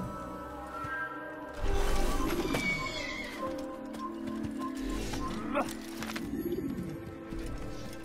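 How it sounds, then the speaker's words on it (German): A horse whinnies in Assassin's Creed, a clear high neigh near the start followed by another falling whinny, over ambient game clatter and hooves. "So, mal gucken, wo unser Pferdchen ist."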